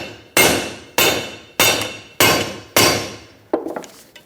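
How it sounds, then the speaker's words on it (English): Five sharp metallic hammer strikes ring out at an even pace on a ball joint press seating a front ball joint on a 2000-2005 Ford Excursion, each decaying quickly, followed by a softer clatter of handling. "Give this a couple taps with a hammer to vibrate the metal and help it seat a little bit better"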